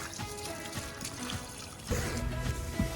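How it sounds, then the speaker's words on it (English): Water trickles and splashes steadily at close range as it drains out of a flipped boat, a continuous dribbling flow with small gurgles and a few louder spills. "I'll flip it up so that all this water drains out too"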